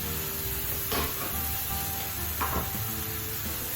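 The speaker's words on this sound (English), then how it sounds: "Yes, that's sizzling. It's hot." A hot pan sizzles steadily as salmon cooks for keto Tuscan salmon, a constant bright frying hiss close by with two short louder spatters of stirring or shifting food.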